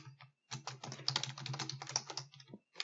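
Typing on a computer keyboard while entering data into an Excel spreadsheet, a quick run of close, clear key clicks after a short pause, with no talking.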